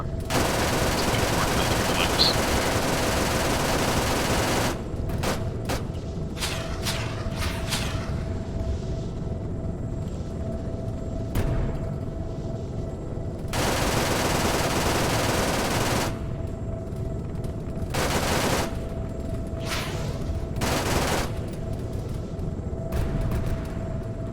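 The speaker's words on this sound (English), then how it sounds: "I'm going to remote into this thing and use my minigun on some of the players that I find" A minigun in Arma 3 fires long, dense, roaring bursts, several sustained streams separated by short gaps and crackling pauses, loud and close, with faint radio chatter underneath.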